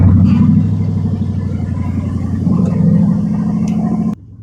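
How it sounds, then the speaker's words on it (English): A 1968 Ford F100 pickup engine idles steadily after starting, a loud, close, continuous low rumble that holds even with a slight swell midway before cutting off abruptly near the end. "We're going to fire up Chucky's truck and let it get a little warmed up so we can move it around"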